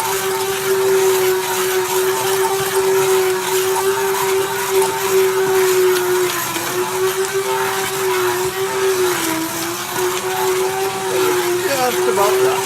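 A blender purees mushroom soup with a loud, steady motor whine throughout, its pitch dipping slightly as the load shifts, close and continuous.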